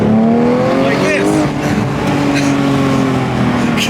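A 2018 Porsche 911 GT3 Touring under way, its engine loud and close with rising revs and gear changes, and a voice talking over it.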